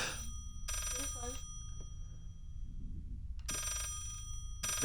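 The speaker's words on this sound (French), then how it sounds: "Téléphone." An old-style telephone bell rings in repeated bursts in the horror video game Layers of Fear, two clear rings separated by a pause, over a low droning ambience.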